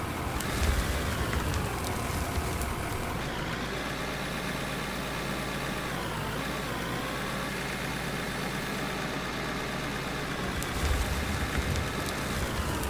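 A tractor drives in the video game Out of Ore, its engine a steady low idling rumble with a constant rain-like hiss over it, growing slightly rougher at the start and end.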